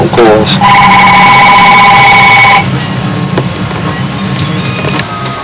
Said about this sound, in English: Don't answer the phone. Phone calls.